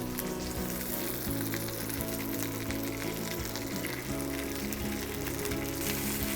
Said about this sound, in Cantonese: 係原條煎啦，就唔好切開佢煎咯